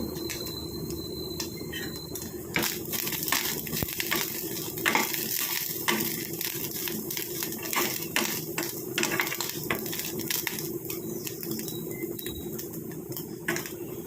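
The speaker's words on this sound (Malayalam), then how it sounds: "കടുക് വറുക്കുമ്പോൾ" Mustard seeds sizzle and splutter in hot oil for a Kerala pumpkin and green gram erissery, with a steady frying hiss and scattered sharp pops and clinks of a pan throughout.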